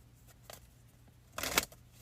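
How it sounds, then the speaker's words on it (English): A few quiet riffle bursts come from a deck of cards being shuffled by hand, faint at first and then one louder, longer ripple near the end. "I need to shuffle these three more times."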